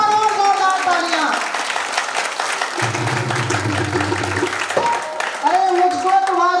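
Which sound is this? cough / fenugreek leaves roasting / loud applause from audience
loud applause from audience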